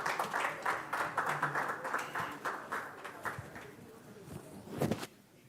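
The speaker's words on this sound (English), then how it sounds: "A big round of applause for Mr. Sid, please, once again." A crowd claps in a loose patter that gradually thins out and fades, with a louder burst just before it stops.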